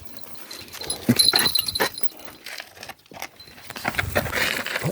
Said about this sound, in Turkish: Akıllı köpek.